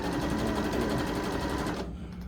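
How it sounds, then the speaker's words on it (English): A serger sewing machine stitching fabric, a loud, fast, even mechanical whirring rattle up close that stops abruptly near the end. "I'm going to run this through the serger too"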